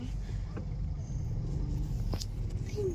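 A motorized tricycle drives past the shore of Sampaloc Lake in San Pablo City, its steady engine rumble carrying throughout over outdoor ambience, with faint voices in the background.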